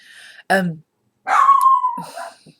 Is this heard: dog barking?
yes